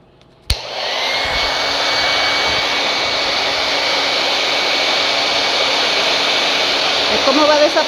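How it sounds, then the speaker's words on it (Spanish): A hair dryer switches on with a sharp click and then blows as a loud, steady roar that holds at the same level to the end, drying shoes so they stay dry, with no talk over it. "Conecta el blower o secador de pelo"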